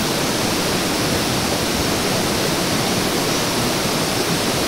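A forest stream rushes in a constant, dense wash of broadband water noise, close and loud, with no break or voices over it.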